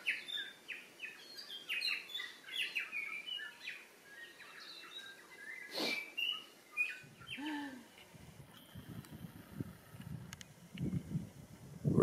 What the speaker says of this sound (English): All around dense forest and lots of bird call.